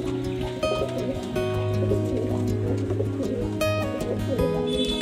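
Loft pigeons cooing in soft, overlapping throaty calls, close and continuous, with occasional brief chirps and faint background noise mixed in.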